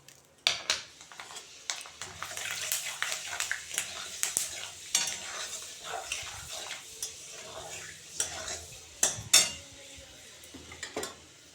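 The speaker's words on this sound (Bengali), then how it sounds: "এই যে এখন মেথি ফোড়ন দিয়ে দিচ্ছি।" Fenugreek seeds tempering in leftover hot oil used for frying pabda fish, giving a steady crackling sizzle broken by frequent sharp clicks and scrapes of a utensil against the pan, close and fairly quiet, with no talking.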